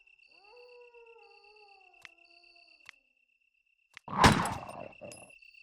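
A dog howls in the Resident Evil video game on PS3, a drawn-out wavering howl with a second voice layered under it over a steady high insect-like drone, followed by a sudden loud crashing burst.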